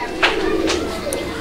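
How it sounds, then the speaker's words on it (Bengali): A male fancy pigeon coos close by in a breeder's loft, with a couple of short throaty coos in quick succession and a faint higher call near the end. Background chatter is faintly present. "ওইটা হচ্ছে নর কবুতরটা। আপনারা ডাকটা খেয়াল করেন"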